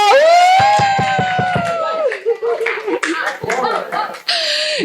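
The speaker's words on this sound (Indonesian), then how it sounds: "Tepuk tangan buat Pak Yoga" During a Kurikulum Merdeka training session, the audience gives a short burst of rhythmic clapping under a loud sustained voice. Mixed talk, light laughter and cheering follow.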